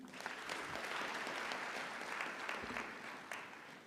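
An audience at a university graduation ceremony claps steadily for several seconds, a dense, even patter of many hands heard from within the hall.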